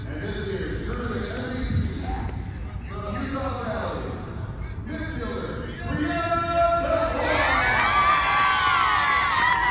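Spectators at a women's college soccer conference championship game cheer, shout and applaud a goalkeeper, a loud crowd roar with high yells and whistles swelling toward the end under a commentator's voice.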